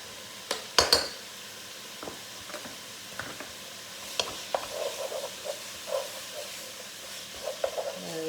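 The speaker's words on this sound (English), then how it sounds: "You have to fry off your garlic because it's very hot if it's not cooked enough" Garlic and browned beef mince frying in a hot pan for chilli con carne, a steady soft sizzle broken by scattered sharp stirring scrapes and knocks of a utensil against the pan, close by.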